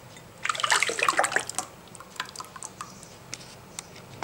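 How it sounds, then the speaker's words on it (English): Homemade paste is poured from a container into a jar or dish, giving a burst of wet, splashy, gloopy pouring, then scattered soft drips and clinks in a quiet room. "I take the paste over into a, and I pour it into a jar"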